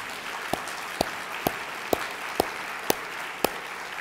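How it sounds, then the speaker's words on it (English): At an annual meeting welcome luncheon, sparse claps land in a slow, even rhythm about twice a second over a low background murmur of the room. "she deserves a special round of applause"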